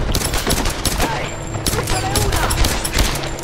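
Rapid gunfire in Tomb Raider Definitive Edition, a dense, loud fusillade of shots in quick bursts, close and sustained over several seconds with shouting voices mixed in.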